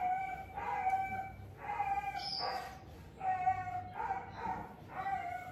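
A dog barks in a steady series of loud, tonal barks, five or six bursts spaced about a second apart, with no talk over them.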